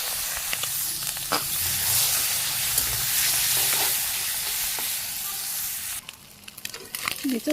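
Carp pieces fry in hot oil in a wok, giving a steady, close sizzling hiss throughout, with a brief stirring clatter near the end.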